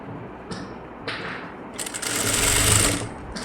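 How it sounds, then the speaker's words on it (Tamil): A sewing machine runs in short bursts, then a longer steady whir as it stitches a folded piece of blouse fabric, moderately close with no talking. "இதை இப்போ நம்ம தையல் போட்டுக்கலாம்"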